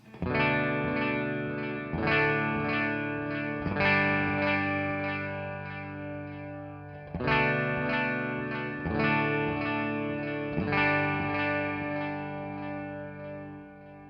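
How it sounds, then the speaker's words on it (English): Guitar chords played through a DD500 pedal set to a vintage digital delay, each strummed chord ringing out with repeating echoes and a chorused, slightly driven tone, loud and alone with no talking. "On the DD500, one of my favorite sounds is the vintage digital delay."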